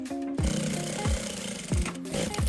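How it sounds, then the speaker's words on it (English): Sewing machine stitching the side flap of a trouser fly zip: short bursts of motor whir and needle clatter, each starting with a low thump, repeating about every two-thirds of a second, close and fairly loud. "I'm going to sew on the flap at the side"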